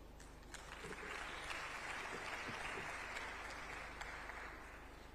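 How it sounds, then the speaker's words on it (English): Applause from a conference audience at an ICT conference in Dar es Salaam, a broad, sustained patter of many hands clapping that swells slightly and then eases, heard somewhat distant over low hall rumble. "Another round of applause for Dr. Mwasaga."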